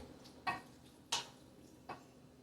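A wooden spoon stirs and breaks up chorizo in a skillet, giving three separate scraping knocks against the pan over a faint background, quiet and close with no talk.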